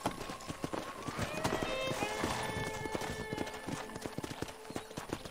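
Horse hooves clip-clopping on a ranch in the video game Red Dead Redemption, a steady close rhythmic gait with faint neighing and music underneath, no talk.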